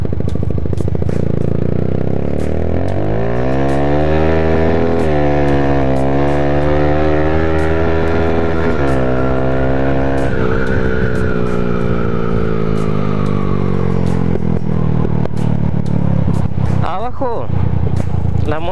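Motorcycle engine revving hard at speed, with rising and falling gear-change sweeps and a loud, close, continuous roar throughout.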